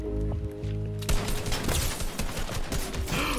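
Shotgun blasts in the Fortnite-style battle royale game, a few sharp booming shots cutting through busy game effects and background music, loud and close.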